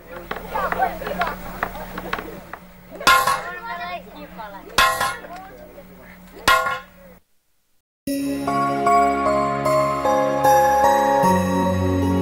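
A village blacksmith in India hammers metal to straighten it, sharp ringing clangs striking in an uneven rhythm over a low hum, then a pause and a stretch of music.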